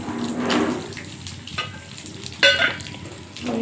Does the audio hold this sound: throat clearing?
no